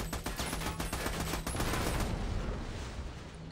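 Gunfire aimed at a propane tank in Army of Two: a quick, steady volley of shots for about a second and a half, then a dense, rumbling blast-like roar that slowly fades.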